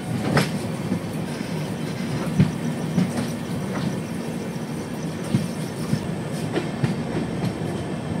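The Brahmaputra Mail passenger train running from Assam into West Bengal at night, a continuous rumbling clatter of wheels on rails with regular clicks over track joints, heard steadily from on board.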